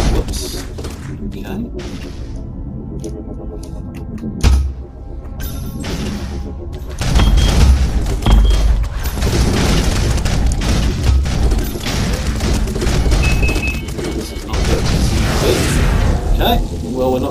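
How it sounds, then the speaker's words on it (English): Grenade launcher firing in the shooter Retrovirus Alpha during an online deathmatch against bots, heard as a couple of heavy booming thuds over a dense, busy game soundscape, with a voice talking over it. "So this is the grenade launcher. And the grenade launcher will launch."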